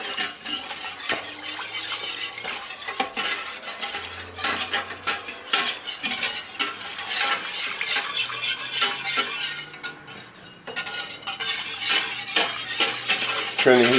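Whisk stirring a thickening sauce in a pan for creamy chicken and vegetables, brisk continuous scraping and clinking against the metal with a faint sizzle underneath, close and steady.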